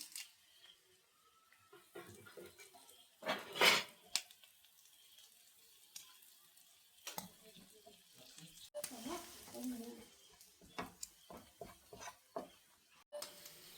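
Two sprigs of curry leaves hit hot oil while a stuffed squid (koondal nirachathu) dish is cooked, giving a sudden loud hissing sizzle, then quieter crackling and a second sizzling surge, with a voice speaking softly between.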